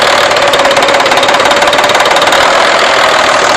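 A diesel engine running on only selected cylinders through a manual cylinder cutout switch, a loud, close, steady knocking idle with an even rapid pulse throughout.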